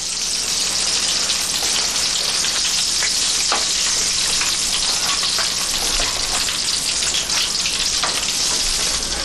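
Sage leaves fry in hot oil, giving a continuous dense crackling sizzle at close range with occasional sharper pops, unbroken throughout.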